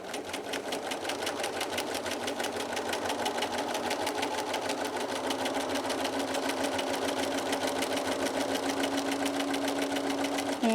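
A sewing machine runs steadily and fast, stitching a paper-pieced quilt block in one continuous, even whir with a dense rapid needle rhythm, close and alone.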